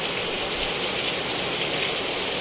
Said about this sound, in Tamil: சரியான மழை பாருங்கள்